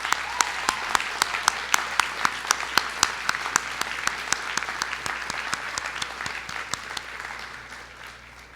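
Sustained applause from a graduation convocation audience honouring major award winners, steady dense clapping with a few sharper nearby claps, fading slightly toward the end.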